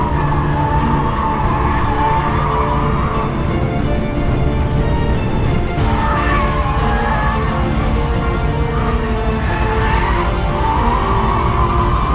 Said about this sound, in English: Guessing you've probably seen better displays of drifting than that